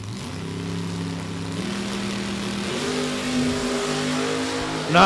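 A Mustang drag race car launches hard at a drag strip event, its engine note stepping up through gear changes in a loud, sustained roar that swells again near the end.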